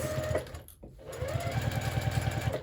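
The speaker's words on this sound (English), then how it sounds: "we're sewing the entire bottom at 3/8 inch seam allowance as well" A sewing machine stitches the bottom seam of a quilted tote bag made from scrap fabric or jelly roll strips, running in a steady rapid rhythm up close with a brief pause near the start before it resumes.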